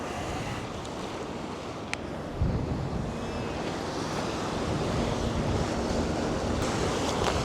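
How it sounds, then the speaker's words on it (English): Steady wind gusts buffet the microphone on a Barcelona beach, with a broad roar of surf behind, growing heavier after a thump partway through and staying loud to the end. "Problem is it's windy"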